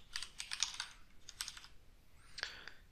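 Typing a project name on a computer keyboard while setting up an Unreal Engine 5 game template: quick bursts of close, crisp key clicks in three short clusters with brief pauses between, fairly quiet and without talk.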